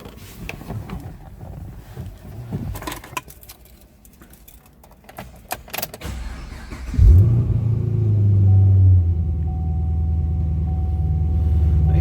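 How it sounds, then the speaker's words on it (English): A 2010 Chevrolet Camaro SS V8 cranks and catches with a loud low roar, then settles into a steady, deep rumbling idle close by, after a few seconds of faint handling noises. "Let's go ahead and fire this up so you can hear it run."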